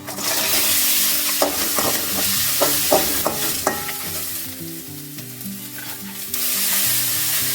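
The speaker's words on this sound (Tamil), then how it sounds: "முருங்கை பிஞ்சு வெங்காயம் பூண்டு உப்பு புளி எல்லாத்தையும் சேர்த்து வதக்கிடலாம்" Drumsticks, onion, garlic, salt and tamarind sauté in a pan for a murungai thokku, with steady sizzling and a run of close, sharp stirring scrapes and taps.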